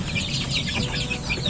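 KUB chickens cluck steadily in a coop, a continuous chorus of close, overlapping hen calls with no talking.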